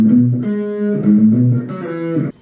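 An electric guitar plays a song intro in short, loud, close phrases of picked and hammered notes, with no talking over it.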